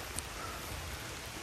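Rain falls at a hilltop campsite, a soft, continuous hiss with faint scattered drips, quiet and steady throughout and without talking.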